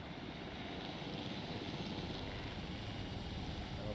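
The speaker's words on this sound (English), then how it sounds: "Okay, get the helicopter ready." A helicopter in the video game Jurassic World Evolution hums with a faint, continuous rotor and engine drone, even and unbroken throughout, with no voices over it.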